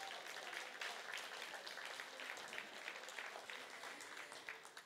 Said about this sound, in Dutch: Mag ik nogmaals een daverend applaus voor deze twee geweldige mensen?